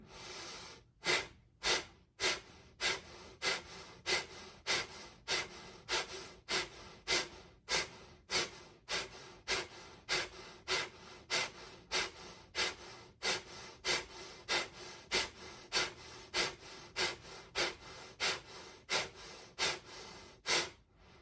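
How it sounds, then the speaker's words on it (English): Deep, forceful breaths during a guided meditation repeat in a steady rhythm, each large inhale and exhale close and distinct, around twenty-five cycles with brief gaps between them and no talking. "take a few large inhales to get started"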